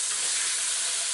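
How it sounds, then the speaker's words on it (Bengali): Vegetables for pav bhaji fry in a pan with a loud, steady, close sizzle that holds unbroken through the whole brief moment, alone with no voices. "তো এটা একটু ভাজা ভাজা হোক"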